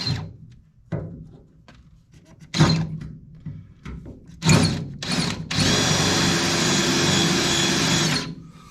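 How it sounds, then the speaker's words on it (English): Several short bursts from a power drill drilling out a hole on a K5 Blazer, then one long steady run of drilling, close and loud, with faint knocks between the bursts. "I'm just going to kind of drill it out a little bit"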